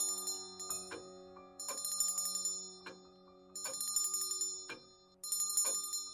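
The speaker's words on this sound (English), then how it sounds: "Just ring the bell if you need anything." A small hand bell rings in repeated bursts, each shake producing a bright metallic jangle with a lingering tone, pausing briefly between rings in a dark, quiet interior.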